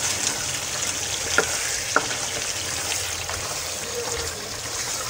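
Aloo gosht meat being browned (bhuna) in a pot gives a steady close sizzle with a couple of sharp clinks of stirring.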